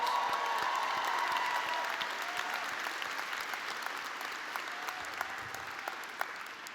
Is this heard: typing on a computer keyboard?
no